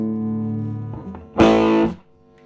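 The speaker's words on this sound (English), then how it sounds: "I turn it up just so you get a little bit of an idea of the valve distortion." An electric guitar plays through an early-1960s Watkins Clubman valve amp, a ringing chord followed by a loud, gritty distorted strum that cuts off.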